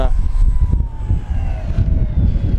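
A Dynam PT-17 1300 mm RC model biplane flies with its electric motor droning steadily, loud and close, with the pitch falling slightly as power comes off.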